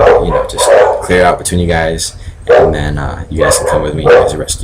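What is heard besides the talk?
dogs barking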